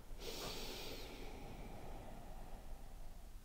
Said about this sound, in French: tu respires pleinement comme ça